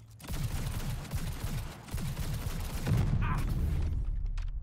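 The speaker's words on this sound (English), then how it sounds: "Those turrets hit hard" Turret gunfire in the Cyberpunk 2077 video game, a dense, continuous barrage of shots and impacts running nearly the whole way through, loud and busy with a brief mechanical whine partway.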